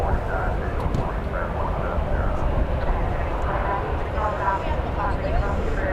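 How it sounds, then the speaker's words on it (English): Broad steady roar of a British Airways Airbus A380 jetliner at DFW airport, a continuous loud engine rumble with no break, heard alongside voices talking. "Okay, all eyeballs are ready for the A380."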